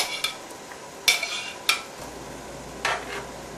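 A utensil stirs crawfish through Alfredo sauce in a pan over low heat, making a few brief scraping clinks against the metal with a faint sizzle underneath and no talking.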